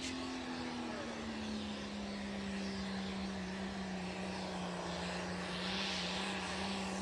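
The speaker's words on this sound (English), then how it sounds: "I want you to listen to this motor and just think about running the clutch" A light limited pro stock pulling truck engine drones steadily throughout with a slowly falling pitch, loud and continuous with no speech.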